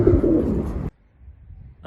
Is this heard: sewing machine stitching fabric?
no